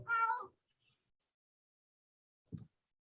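A single cat meow, fairly close and clear, followed after a long silent gap by a brief low thump.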